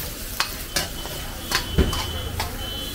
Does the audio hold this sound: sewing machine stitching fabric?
no